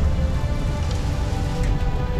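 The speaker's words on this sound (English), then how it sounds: "Here comes the hail." Heavy rain and hail pounding down during a storm under a tornado warning, a loud, dense, steady roar of drops with no gaps.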